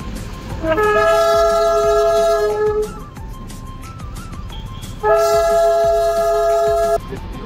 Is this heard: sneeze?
no